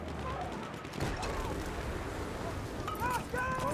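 Gunfire and grenade blasts in the Battlefield 1 video game, with rapid bursts of shots and a heavy explosive thud near the middle. Brief sharp chirping tones come later, and a player talks over the action.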